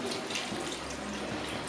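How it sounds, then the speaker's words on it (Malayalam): Second coconut milk being poured into a pot of Kerala-style duck curry, a steady liquid splash and trickle running continuously at moderate volume, close by, with no talk. "നമ്മുടെ തേങ്ങയുടെ രണ്ടാം പാൽ അങ്ങോട്ട് ഒഴിക്കുകയാണ്"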